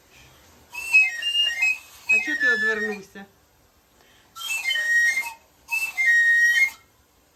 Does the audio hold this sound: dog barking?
no